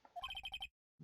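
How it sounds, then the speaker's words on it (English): A phone ringtone chirps in a quick run of six bright, evenly spaced electronic beeps, fairly close and clear, ending abruptly before a brief sound. "Sorry, that's my phone."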